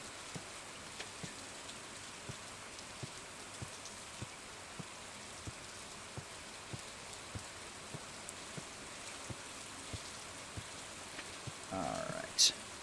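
Rain falls steadily in the farming video game Stardew Valley, a soft continuous patter with faint scattered drip ticks, followed at the end by a short burst of a brighter game sound.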